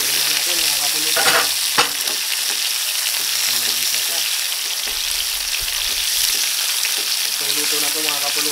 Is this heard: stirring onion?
yes